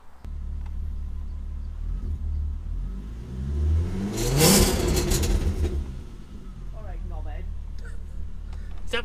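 A Nissan Skyline R32 engine idles with a deep rumble, then revs up sharply to a loud peak and settles back down, with voices faintly present.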